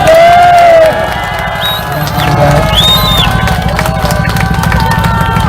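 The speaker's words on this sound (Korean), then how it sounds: "오늘 용기 내시라고 한번 정리의 박수 좀 부탁드립니다" A crowd at an outdoor political rally near Seoul Station responds with clapping, cheers and raised voices, a loud, busy mix of shouts and whoops with a brief tonal call near the start.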